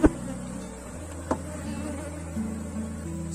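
Honeybees hum in a steady low drone at a crowded beehive that needs more space, the buzzing close and continuous with a couple of brief knocks.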